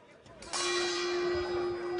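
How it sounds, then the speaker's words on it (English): A gong rings out to signal the start of round two in an M-1 Challenge heavyweight MMA bout, striking once and sustaining a steady, loud metallic tone with a hum that carries on without fading. "You heard the gong."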